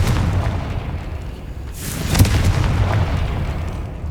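A Confringo blasting spell explodes in Hogwarts Legacy, a deep booming burst with a bright crackling flash around the two-second mark, over a continuous low rumble of game sound.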